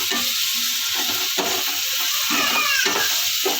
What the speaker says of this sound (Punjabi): ਗੈਸ ਆਪਣਾ ਫੁੱਲ ਤੇ ਆ ਹੁਣ ਆਪਣਾ ਜਿਹੜਾ ਮਸਾਲਾ ਏ ਚਾਂਪਾਂ ਦਾ ਤਿਆਰ ਹੋ ਰਿਹਾ ਲਗਾਤਾਰ ਭੁੱਜਦਾ ਪਿਆ